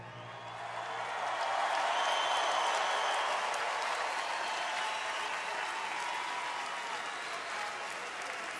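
Sustained crowd applause fills a concert venue for a performance, a dense wash of clapping and cheering that swells early and holds steady throughout.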